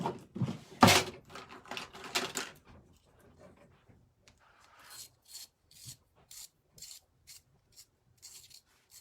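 An eyeliner pencil is sharpened, giving a few loud scraping rasps at first, then a run of softer, quick rhythmic scratching strokes, close up with no talk.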